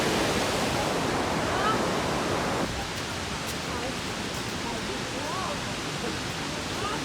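A loud, steady roar of falling water fills the air close by, constant and unbroken, with faint voices barely audible beneath it.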